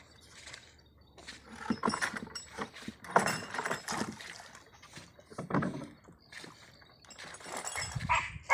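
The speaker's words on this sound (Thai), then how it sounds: "ฟังเสียงเอาครับพี่น้องฟังเสียงหมาบ่เห็นมันได้" Several dogs bark and yelp in scattered bursts while herding prey near a river crossing, moderately distant and intermittent over water and movement noise.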